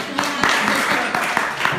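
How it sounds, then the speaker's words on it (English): Comedy show audience at Backline Theatre breaking into applause, a close, loud wash of clapping with several sharp claps sticking out, mixed with crowd voices and laughter. "Can we have a round of applause for my vagina?"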